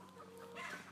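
Laying hens cluck softly in a poultry house on an egg farm in Gironde, a steady low flock chatter with a few sharper clucks rising near the end, faint and somewhat distant.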